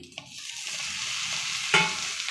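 Egg sizzling in a hot pan as tomatoes are tipped in and stirred, a close steady frying hiss with a brief clatter and a sharper burst of sizzle near the end.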